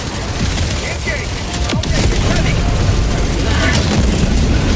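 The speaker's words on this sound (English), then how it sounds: "Throwing grenade!" Grenade blast and sustained gunfire in the video game Helldivers 2 during a base defense mission, a dense continuous barrage of loud shots with a deep boom partway through, while players talk over it.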